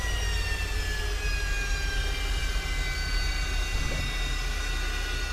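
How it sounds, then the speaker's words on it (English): A Harrier jet in Microsoft Flight Simulator 2024 whines with a steady, loud engine roar and high tonal hum, continuous and unchanging while the aircraft sits on the ground. "That's flying a Harrier."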